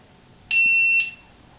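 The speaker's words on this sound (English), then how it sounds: "That's what the beeping is." A single short, high-pitched electronic beep from a GoPro Hero 7 Silver camera warning of no SD card sounds close by against near silence.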